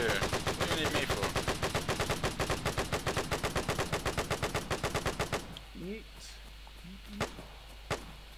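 Rapid automatic gunfire from a military video game, a loud, steady burst of evenly spaced shots lasting about five seconds, then stopping, followed by quieter ambient noise with a couple of sharp single hits.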